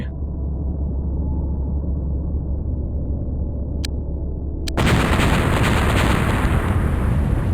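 A building collapses with an explosive roar in the video game X-Com: Apocalypse, a sudden loud, dense blast bursting in after a steady low rumble and continuing as a heavy crumbling wash.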